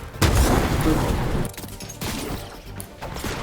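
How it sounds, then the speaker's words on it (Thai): A sudden loud blast from a car exploding in a Fortnite video game erupts, followed by crashing debris and scattered bangs fading over a few seconds, with faint voices mixed in. "เฮ้ยรถระเบิด"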